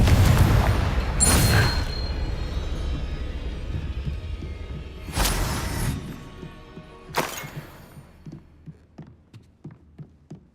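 A Confringo fire spell blast in Hogwarts Legacy: sharp, loud bursts with a shattering crack, fading into scattered small taps and crackles toward the end, with no voices.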